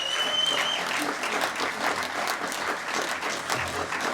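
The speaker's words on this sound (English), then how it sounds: "another big round of applause for all the people that spoke tonight" A big round of applause from the audience at an election information evening on gun laws, steady, dense clapping held for several seconds, with a few faint voices under it.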